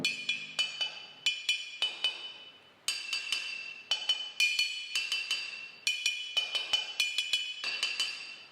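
A glass object struck repeatedly by hand, ringing out in bright, bell-like clinks with shimmering decays; roughly a dozen strikes in uneven rhythm, close and clear, alone without talk.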